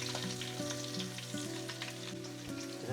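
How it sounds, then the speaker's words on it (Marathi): Whole spices and garlic fry in a few spoonfuls of hot oil, giving a faint, steady crackling sizzle with small pops throughout and no talk. "खडे मसाले टाकून घेऊया. सोबतच लसूण सुद्धा,"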